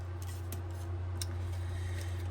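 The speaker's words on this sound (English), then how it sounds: "I use my long scissors for that." Long scissors snip through material for a mixed media canvas craft, several faint, sharp cuts at irregular intervals over a steady low hum.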